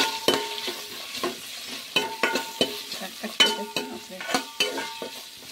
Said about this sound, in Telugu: బాగా ఇలా ఆయిల్లో ఉడికిపోవాలి